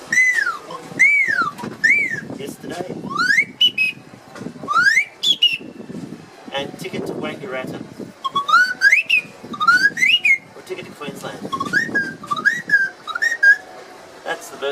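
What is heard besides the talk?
bird caller whistle blown while pulling the stick up and down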